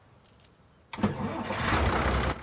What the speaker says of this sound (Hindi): गाड़ी स्टार्ट कर लो अब।